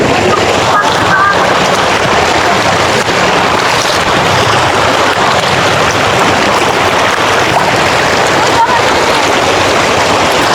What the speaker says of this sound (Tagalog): Ay, oo nga, ito ng ilog oh. Ito na ang ilog.